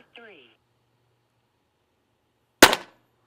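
A single sharp, loud report from a Huben GK1 .22 air pistol, a close crack with a short tail, after a brief voice.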